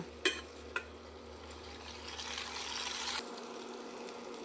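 A beetroot and moong dal mixture is sautéed in a pan until it turns paste-like. A faint, steady sizzling hiss follows a couple of quick utensil taps near the start, and the hiss drops off abruptly near the end.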